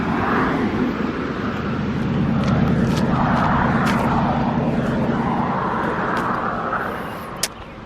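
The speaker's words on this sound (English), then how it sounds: "I'm gonna wait for the traffic to go by." Road traffic driving past near a roadside trailer and historic graveyard, a steady rumbling vehicle drone that swells and fades as cars pass close by, with a brief sharp click near the end.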